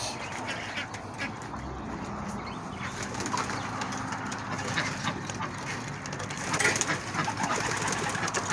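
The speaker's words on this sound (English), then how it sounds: "There's these pigeons." Domestic pigeons kept with chickens and ducks coo in a backyard coop, a steady bed of soft cooing and bird chatter with occasional quacks and wing flutters throughout.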